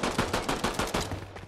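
A quick burst of automatic gunfire in Fortnite, about eight rapid close shots in a steady rhythm that taper off slightly at the end.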